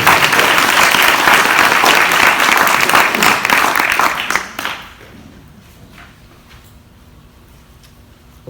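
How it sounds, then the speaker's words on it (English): A room of people at a parish police jury candidate forum claps for the candidates in dense, loud applause that holds for about four seconds and then quickly fades to scattered claps and quiet. "Now is the time, if you wish, for a round of applause for all of these folks for offering themselves as candidates."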